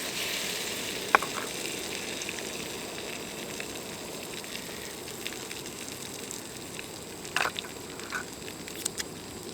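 A Monte Cristo sandwich soaked in egg and milk mix frying in a pan on a Trangia Triangle camp stove outdoors, giving a soft, steady sizzle with a few faint clinks and pops, no talk.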